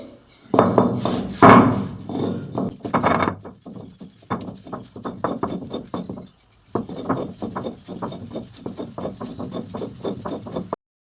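Herbs are ground by hand on a stone grinder (ammi) at home, giving a close, irregular series of rough scraping and knocking strokes with short pauses between bursts.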